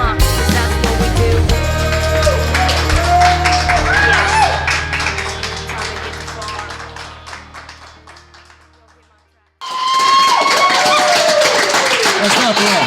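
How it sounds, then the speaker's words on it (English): Young men clapping for a woman at a country Friday-night-football gathering, a bright sustained patter of hands over loud music that fades out, then resumes abruptly after a brief silence. "That's the young guys clapping for Allison."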